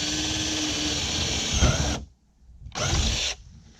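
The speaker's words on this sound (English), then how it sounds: "go ahead and drill this one." Power drill running in two bursts during assembly of an Arctic Cat Norseman 3000, a steady loud whine that stops abruptly, pauses in silence, then resumes briefly and cuts off.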